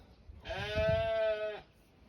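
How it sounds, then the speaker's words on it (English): A single sheep bleats once, a clear, wavering cry lasting about a second, fairly close by. "Sheep are impatient."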